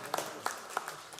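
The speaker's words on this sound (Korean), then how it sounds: "박수도 그냥 같이 쳐주시고 너무 감사하네요." A church congregation claps during a Sunday service. A few sparse, faint claps sound at uneven intervals over a quiet room, with some voices underneath.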